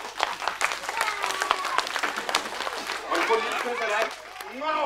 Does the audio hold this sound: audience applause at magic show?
yes